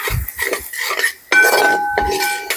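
Chicken mixed with chilli sauce, vinegar and salt is stirred with a spoon in a dish, giving a few short clinks and scrapes of metal against the container, close and fairly loud, with no talking.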